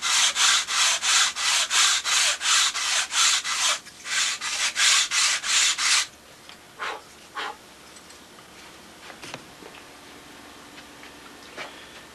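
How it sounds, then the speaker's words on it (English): Rhythmic rasping strokes of a sanding block rubbing back and forth across wood, steady and close, then stopping, followed by a few scattered taps and scrapes. "I always like to pull back the sanding block, sanding belt that's on the table, get them all nice and even."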